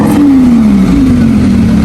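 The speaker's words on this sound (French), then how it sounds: "Donc là, on aura le droit à un démarrage." Lamborghini Huracan V10 engine firing up and revving loudly up close, a deep roar with a rising then falling tone that repeats in two quick surges, no talking.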